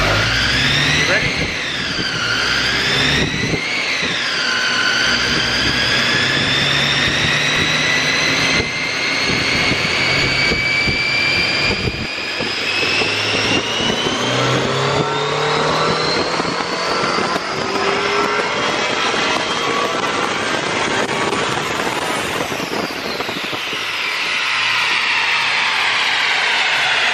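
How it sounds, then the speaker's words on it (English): A supercharged engine revs hard with a rising and falling whine, a loud continuous roar that climbs in pitch, with a voice speaking briefly over it. "you can see how much the supercharger is dragging on the engine"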